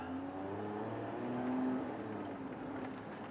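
A Lotus Emira circles a race track in regular mode, its engine note a steady, moderately loud drone with a slowly rising and falling pitch, heard from the cockpit without speech.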